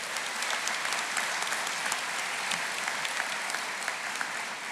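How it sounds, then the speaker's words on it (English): A large crowd applauds at a shipbuilding apprentice school graduation ceremony, with continuous dense clapping that stays loud and even throughout and no talk over it. "Give him a round of applause."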